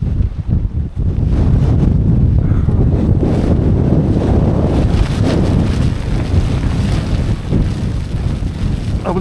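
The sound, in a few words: winter wind and snow blowing against tent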